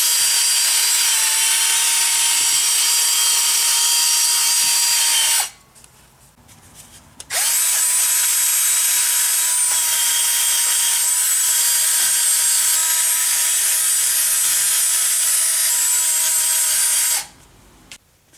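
A power tool whirs loudly while cleaning rust off the hub of a 2005 Town & Country's rear brake rotor, in two long bursts broken by a short pause, with a gritty scraping edge and no talk.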